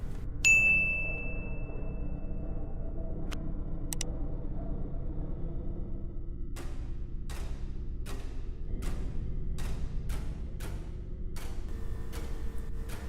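A bright notification bell dings once near the start, followed later by a rapid series of short ticking clicks over a steady low hum.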